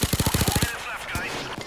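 Rapid automatic gunfire from the Payday 2 video game, a burst of about ten close, loud shots in quick even rhythm, then quieter game sounds and scattered later shots.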